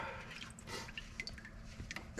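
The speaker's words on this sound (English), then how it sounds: "Already down to a drip over here." Fluid from a vintage acreage tractor drips into a drain pan underneath, a few scattered soft drips and splashes over a low steady hum, with no talking.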